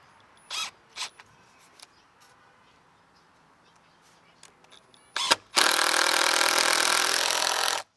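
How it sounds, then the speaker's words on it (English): A power drill drives screws through a wooden concrete form into the bottom of a post: a few short clicks and handling knocks, then a sharp burst and a sustained loud whirring run near the end. "I'm just driving some screws through the form and into the bottom of the post to hold it in place"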